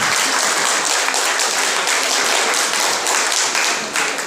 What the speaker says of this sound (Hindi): आप एक बार जरा जोरदार तालियां बजा दीजिए